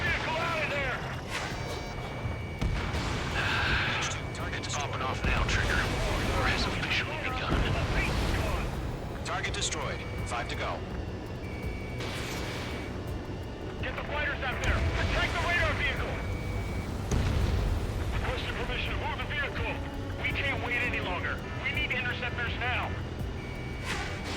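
Ace Combat 7 aerial battle with booming explosions and bursts of anti-aircraft fire over jet engine roar, while radio voices and game music play over the action.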